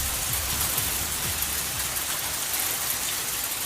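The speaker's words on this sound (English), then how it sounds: "that right there is hail coming down in Cottonwood Heights" Hail coming down during a storm in Cottonwood Heights, Utah, a dense continuous hiss of pattering ice on surfaces, steady and close with no voices.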